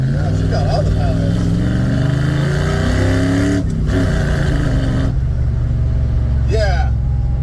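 Ford F100 truck engine with a freshly tuned carburetor and power plate, loud and close, its pitch climbing and falling as it accelerates under steady engine roar, with voices talking over it.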